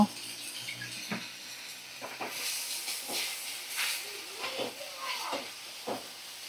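Ginger-garlic paste with poppy seed and mustard pastes fries in a pan for an eggplant and bhetki fish dish, giving a soft, faint hiss broken by intermittent scraping bursts as the spice mixture is stirred.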